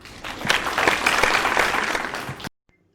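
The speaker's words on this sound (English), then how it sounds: "Please welcome him with a huge round of applause." A round of applause from a webinar audience welcoming a chief guest, rising quickly into dense clapping, holding for about two seconds, then cutting off abruptly into near silence.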